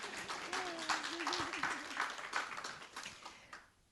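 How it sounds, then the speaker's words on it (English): A conference audience at a panel on money and values applauds in a steady wash of clapping. A voice calls out over it early on, and the sound fades away toward the end. "That's a round of applause for that."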